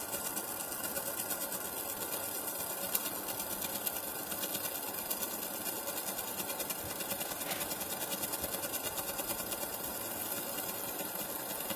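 A small-scale ion drive model spinning as magnets are brought closer, giving off a fast, steady mechanical whirring buzz with fine ticking, moderately loud and continuous.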